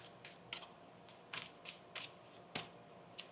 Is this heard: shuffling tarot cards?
yes